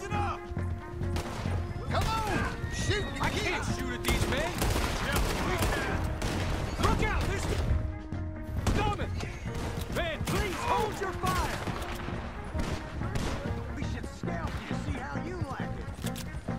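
Gunfire in the video game Red Dead Redemption 2 crackles almost without pause, sharp reports and clattering impacts piling over each other beneath shouting voices throughout.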